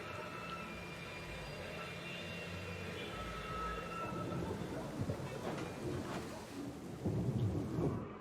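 A thunderstorm in the video game Syberia The World Before, with steady rain hiss and a low rumble of thunder that swells toward the end.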